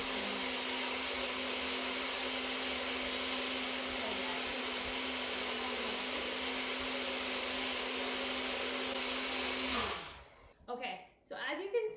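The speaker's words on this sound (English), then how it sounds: "now we're just gonna pop it on the blender until it's all blended and smooth" A loud, steady motor whine with a constant hum runs for about ten seconds, then cuts off, followed by brief voices.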